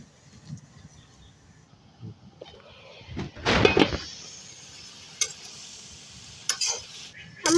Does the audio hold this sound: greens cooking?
yes